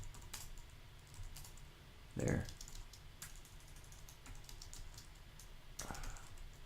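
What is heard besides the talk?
typing commands on a computer keyboard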